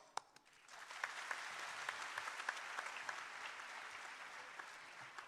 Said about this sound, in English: I think this historical event deserves the loudest of applause.